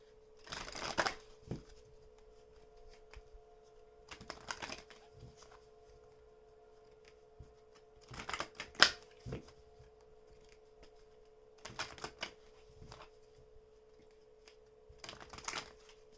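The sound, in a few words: oracle cards being shuffled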